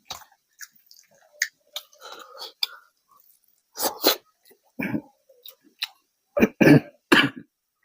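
Someone eating a spicy boal fish curry with rice gives a few sharp coughs and sneezes between quiet chewing and soft mouth sounds, close and intimate with silence in between.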